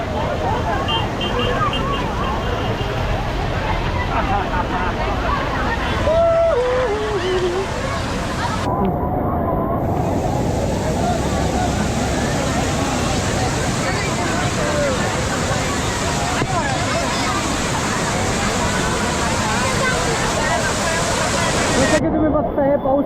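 A loud, continuous roar of the Bhaje waterfall near Malavali during heavy monsoon flow fills the air, with a crowd of tourists talking beneath it.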